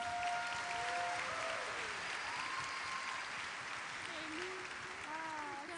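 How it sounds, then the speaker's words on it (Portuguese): Audience at a Christian men's and women's congress applauds a visiting ministry couple, a steady wash of clapping with some tonal music or voices threading through underneath. "Pastor Lester Belo e Roane Belo, vamos aplaudi-los?"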